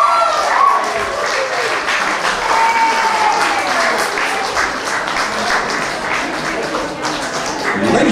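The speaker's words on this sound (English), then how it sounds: "A big round of applause for our groom's parents" Wedding guests applaud the groom's parents, a steady, loud wash of clapping across the reception hall. Faint voices and a few brief tones run beneath it.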